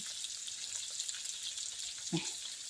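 Pork frying in hot oil in a home kitchen, a steady soft hiss and crackle with no pauses, heard at low level.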